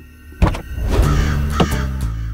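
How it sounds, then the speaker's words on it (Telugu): A black crow caws a few times in a Telugu film scene, loud and close, with a thudding knock beneath the calls. "ఓ నల్ల కాకి దిగుతుంది చూడు."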